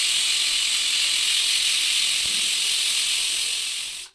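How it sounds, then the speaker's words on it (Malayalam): A pressure cooker on high flame cooking dal, letting off one steady, loud, close steam hiss that holds for about four seconds and then cuts off abruptly. "കുക്കർ അടച്ച് വെച്ചിട്ട് ഒരു 3-4 വിസിൽ നമുക്കൊന്ന് അടിച്ചെടുക്കാം"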